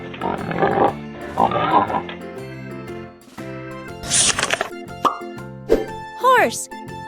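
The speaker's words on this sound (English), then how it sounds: "This is a pig." A cartoon pig in a farm-animal vocabulary lesson for kids gives a few short, snorty grunts and oinks up close. Bright chimes, plops and jingly sound effects follow.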